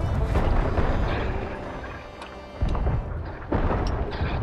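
Cannon fire in Sea of Thieves, the pirate video game, heard as deep rolling booms: a loud blast fades into rumble, then two more sharp explosions strike about a second apart.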